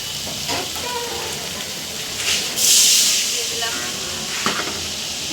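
Water from rinsing the spice bowl poured onto frying spice paste for a rohu fish and potato curry, a loud steamy hiss rising and swelling mid-clip over a background of sizzling, with a voice talking throughout.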